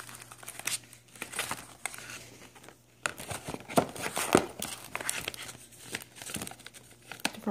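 A packaged file folder being opened, with crinkling plastic wrap and tearing packaging in irregular close rustles over a faint background hum.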